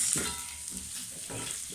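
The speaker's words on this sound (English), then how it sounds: "to the beef as I'm frying it" Steady sizzling of beef frying in a hot pan, with a few soft stirring scrapes and no talking.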